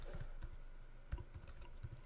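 Quiet computer keyboard typing, a steady patter of individual keystrokes with a few sharper, louder taps, heard close and alone with no voices.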